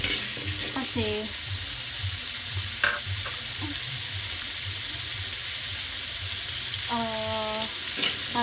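Chicken and pork frying in a pan for mechado, a steady close sizzle and crackle with stirring scrapes, while a voice speaks briefly over it.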